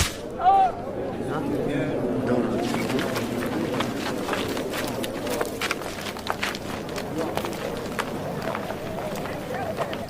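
A whip cracks in sharp, repeated lashes, close and punchy, over a background of voices and scuffling movement.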